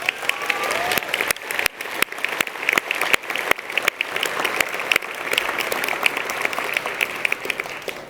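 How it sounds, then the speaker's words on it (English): Enthusiastic applause from a graduation commencement ceremony audience, dense continuous clapping with occasional sharper claps standing out, loud and sustained for several seconds. "Could you please give everybody who did GPS a special round of applause?"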